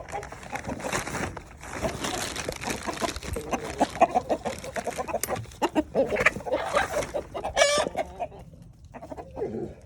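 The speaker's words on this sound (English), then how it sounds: "So let's let the chickens out." Several chickens cluck steadily and busily close by as they are let out in the morning, with a rooster-like call rising near the end; occasional rustling underneath.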